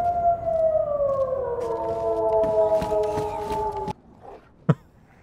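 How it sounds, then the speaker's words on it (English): Wolves in a video game letting out layered, wavering howls that glide downward together for about four seconds, then stop abruptly before a single sharp thump. "That's a lot of howling."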